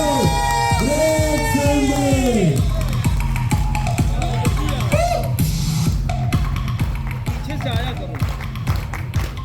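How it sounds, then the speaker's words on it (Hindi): A crowd at a gathering erupts in loud, close cheering, whooping and hollering, with scattered clapping and shouting voices layered throughout. "जोरदार तालियां हो जाए साथियों"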